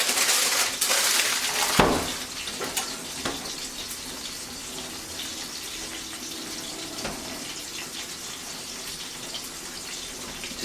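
Tap water runs steadily into a kitchen sink while hands are washed during Japanese hambagu steak preparation, a continuous close hiss with a few louder splashes near the start, no talking.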